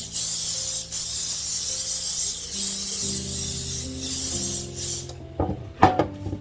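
Olive oil spray hisses continuously onto a Pullman baking pan for several seconds over a faint hum, then stops, followed by a few clattering knocks and clinks.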